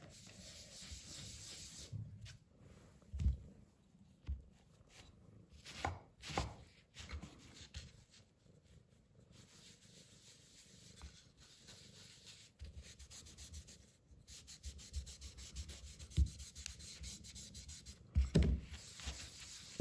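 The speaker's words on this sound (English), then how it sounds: "now I'm gonna wax these pieces of wood" Dark wax is rubbed by hand onto small pieces of wood meant as light fittings, producing quiet, irregular scuffing and rubbing strokes with occasional louder brushes and no talking.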